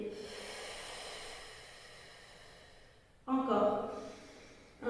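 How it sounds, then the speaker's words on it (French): A person doing a Pilates abdominal exercise gives one forceful, breathy exhale after a quiet stretch, heard close over soft background music. "et j'expire"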